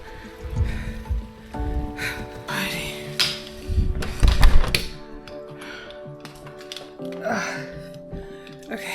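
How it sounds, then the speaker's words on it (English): Rain patters outdoors while someone walks through it, irregular close taps and drips on a surface with scattered tonal hums and a few louder bursts of splashing. "Still walking in the rain."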